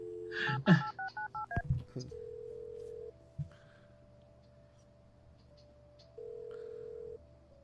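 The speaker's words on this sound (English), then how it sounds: "Maybe you can just dial cocky." Telephone dialing in the video game Kathy Rain: a quick run of touch-tone beeps, then a steady ringback tone sounding in two long pulses, with a couple of soft clicks in between.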